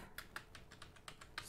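Keys on a computer keyboard tapped in a steady run of about nine clicks over a second and a half, close and fairly quiet with no voices.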